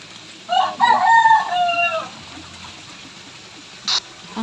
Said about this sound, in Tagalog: Ang ingay ng mga manok guys.